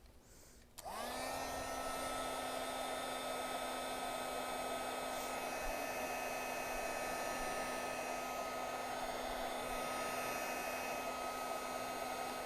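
A hair dryer switches on after a brief quiet moment and runs at a steady, loud whine, used to dry archival ink on artwork in a creative studio; no one speaks over the even drone.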